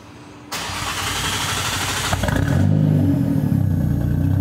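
A Nissan Skyline R34 GTR fitted with extended exhaust tips cranks and fires up, then settles into a loud, throaty idle with a slight rev.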